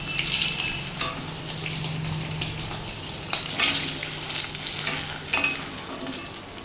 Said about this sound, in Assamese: অকণমান ওলট পালট কৰি দিলে গোটেইকেইটা চাইডতে ভালকৈ ভজা হৈ যাব